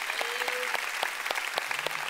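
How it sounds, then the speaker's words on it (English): A church congregation claps during a sermon, a short run of separate claps at a loose, uneven beat over a faint background hum. "let's give him a big hand."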